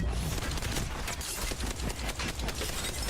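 Rapid bursts of gunfire from the Rampage light machine gun in Apex Legends, dense and loud, crackling continuously across the short span with no talk over it.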